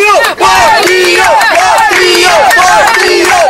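Supporters of a former president gather at an open-air theatre in Zacapa, boarding buses amid a loud crowd chanting and cheering. Voices rise and fall in rhythmic repeated shouts throughout, close and dense.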